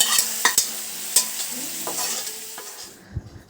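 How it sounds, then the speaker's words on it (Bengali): Vegetable chorchori cooks in a pan with a close, steady sizzle, broken by several sharp clacks and scrapes of a spatula stirring it. "রান্না করছে এখানে চচ্চড়ি রুমার ভাজা চুরচুরি"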